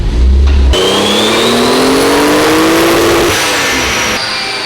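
A Toyota 2JZ-powered car on a dyno revs loud and close, its engine pitch sweeping up through a long pull before dropping off, with a steady high whine layered above the exhaust roar.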